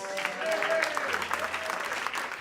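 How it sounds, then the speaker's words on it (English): An audience claps steadily and densely, a wash of applause with a few cheers mixed in throughout. "Let's give a big round of applause to Mr. Delphio Marcellus."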